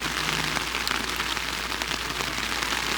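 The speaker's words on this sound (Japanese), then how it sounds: "すごい土砂降りになってきちゃった。" Heavy downpour hammering a tent pitched on a mountain campsite during a thunderstorm, a dense, steady hiss of countless raindrops on fabric, loud and unbroken throughout with no voices.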